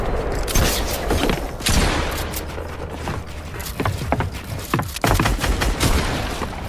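Rapid bursts of assault rifle fire in Fortnite, dense and loud throughout with several short gaps between volleys and mechanical clatter mixed in.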